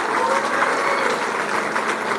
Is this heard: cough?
no